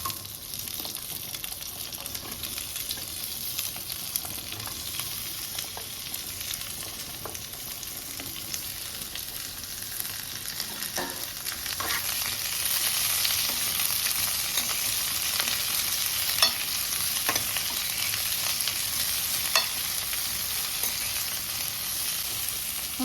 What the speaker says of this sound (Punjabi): ਤੇਲ ਆਪਣਾ ਗਰਮ ਹੋ ਗਿਆ ਤੇ ਹੁਣ ਆਪਾਂ ਇਹਦੇ ਵਿੱਚ ਸਬਜ਼ੀਆਂ ਪਾ ਦਾਂਗੇ ਪਿਆਜ਼ ਪਾ ਦਾਂਗੇ